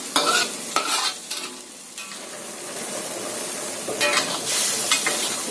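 Carrots sizzle in a pan while a utensil stirs them, giving scraping strokes in bursts over a steady frying hiss, close and clear with no talking.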